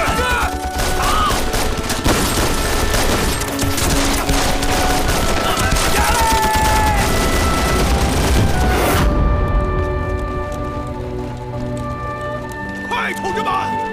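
Dense rifle volleys and booming blasts fill a war film battle scene where Japanese troops raid a Communist base at night. Shouting voices mix in, and then the firing abruptly drops away into quieter background sound.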